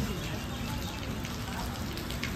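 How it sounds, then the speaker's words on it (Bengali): Rain falls steadily outdoors, a dense continuous hiss and patter that stays at an even loudness throughout. "আর বাইরে সেরকম ভাবে বৃষ্টি হচ্ছে"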